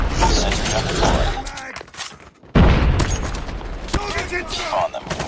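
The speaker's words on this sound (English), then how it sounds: "Sentry gun deployed." Automated sentry gun fire in a first-person military shooter, rapid bursts of gunfire and booms filling the mix with brief pauses, alongside overlapping game voice callouts.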